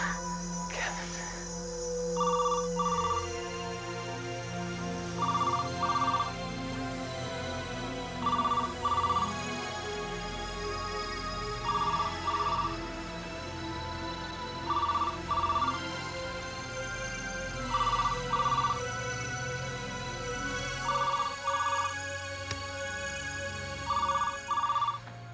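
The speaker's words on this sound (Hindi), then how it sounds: "फोन कहाँ से बज रहा है?" A telephone rings from a cabin, some distance away: a repeated double electronic trill sounds about every three seconds, eight times, over a low steady hum.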